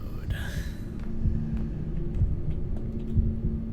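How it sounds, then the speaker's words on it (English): A low, muffled heartbeat pulses in the horror video game Bendy and the Ink Machine. Dull thuds repeat about once a second under a steady droning hum, and a faint voice is heard briefly near the start. "I don't remember hearing a heartbeat sound."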